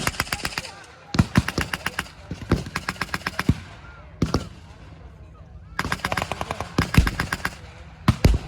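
World War II battle reenactment gunfire: bursts of rapid automatic fire and single loud shots in clustered volleys with short pauses, sharp and fairly close, no speech over them.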